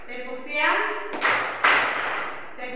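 Children and a teacher in an Indonesian classroom playing a clapping game, with a few sharp group hand claps under chanting voices, close and fairly loud.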